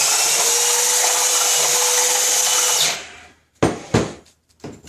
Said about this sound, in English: This is a oscillating spindle sander that works off the power of one drill.